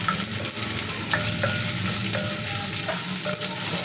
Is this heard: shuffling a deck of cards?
no